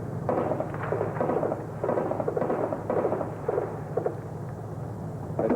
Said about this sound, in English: That gunfire you hear is being picked up on the microphone from the camera